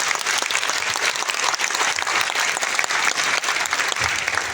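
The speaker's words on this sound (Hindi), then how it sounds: "एक बार जोरदार तालियां" Loud, sustained audience applause fills a hall at a motivational talk, dense clapping holding steady from start to finish with no voices on top.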